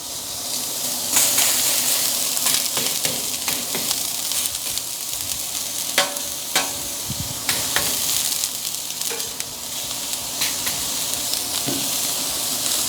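Four burger patties frying on a Napoleon griddle top give a loud, steady sizzle throughout, with spatula scrapes and stirring sounds breaking through now and then. No one speaks.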